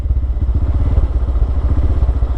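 A motorcycle engine with a jerking fault sputtering close by, a loud, low, uneven chugging with rapid irregular pulses and clattering crackle throughout.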